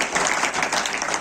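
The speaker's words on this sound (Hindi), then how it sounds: "जोरदार तालियां हो जाए" Loud, dense applause from an audience at a Hindi public function, a steady wash of many hands clapping without pause for the whole moment.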